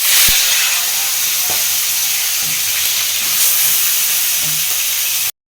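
Steady, close sizzling and hissing of rohu fish heads frying in hot oil, continuous throughout with a few faint clicks and thumps underneath.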